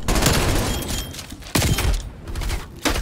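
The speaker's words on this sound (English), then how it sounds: "I just got shot in the back by a friendly" Close, loud bursts of gunfire in the Black Ops Cold War game on the Slums map, heard as a rapid volley followed by two more sharp shots.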